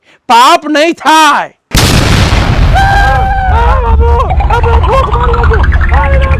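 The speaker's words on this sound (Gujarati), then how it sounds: "555 બોમ્બનો અવાજ હતો।" Someone speaks a few loud words, then a 555 bomb firecracker goes off for Diwali with a sharp, loud blast. A sustained crackling roar follows, with whistling tones rising over it.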